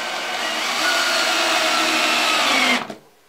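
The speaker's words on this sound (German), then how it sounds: "Wir nehmen uns unsere Schrauben und dann schrauben wir einfach ohne Vorbohren hier rein." A power screwdriver drives screws into wood without pre-drilling, working on a DIY armchair for hand puppets. It whirs loudly and steadily for close to three seconds, then cuts off abruptly.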